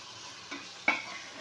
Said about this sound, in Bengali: আজকে দেখবো কেমনে করে মাংস ভাজা লাগে